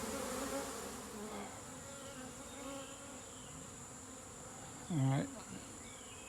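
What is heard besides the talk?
honey bees buzzing during elevated hive removal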